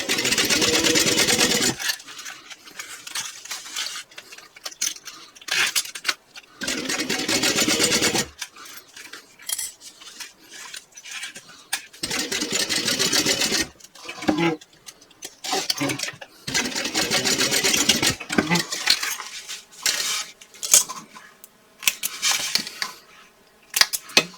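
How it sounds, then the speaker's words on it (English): A sewing machine topstitches a bag seam at an eighth of an inch, running in several bursts of steady mechanical whirring broken by short pauses, close and fairly loud. "now I'm going to top stitch across here at 1/8 of an inch"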